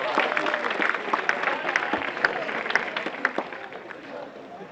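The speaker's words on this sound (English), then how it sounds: "If you could just give yourselves a round of applause for making it this far." High school seniors clap for themselves at a drive-responsibly assembly, a moderate, distant-sounding patter of applause with scattered sharper claps over a crowd murmur.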